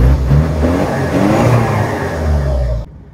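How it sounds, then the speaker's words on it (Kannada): Modified Mahindra MM540 jeep engine revving close and loud, a deep rough throaty drone that rises and swells twice before cutting off abruptly near the end. "ಗಾಡಿ ಸೌಂಡು, ಗಾಡಿ ಯಾವ ಥರ ಇದೆ ಅಂತ ಅನ್ನೋದನ್ನು ತೋರಿಸ್ತೀನಿ ನೋಡಿ"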